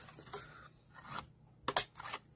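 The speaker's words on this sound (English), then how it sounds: "you can take your scissors and just round those corners just like that" Scissors snip around the corners of paper in several short, crisp cuts, faint and close, with a sharper rasping snip near the end and no talking.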